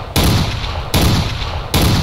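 Three loud, sharp Magnum pistol shots go off at a steady pace about three-quarters of a second apart, each a booming blast with a short tail. The shots are sound effects from a Minecraft Walking Dead datapack.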